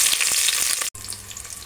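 Onions with green and dried red chillies sizzle in a couple of spoons of hot oil in a bowl on the stove, a loud, steady frying hiss that cuts out briefly midway before resuming.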